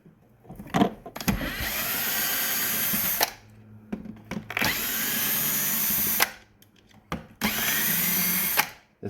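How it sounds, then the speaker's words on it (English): An electric screwdriver whirs in three sustained bursts of a few seconds each, backing screws out of a plastic-bodied handheld, close and loud with short clicks and handling noise between runs and no talk. "I'm going to use my screwdriver, electric screwdriver, to pull these out."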